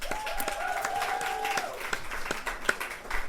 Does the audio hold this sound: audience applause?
yes